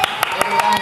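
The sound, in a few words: applause from audience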